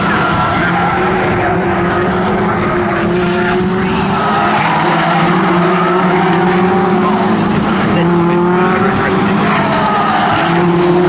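Race cars in a Toyo Tires 7 series race at Snetterton roar down the Bentley straight, their engines loud and sustained with shifting pitch as the pack runs close together, with no break in the sound.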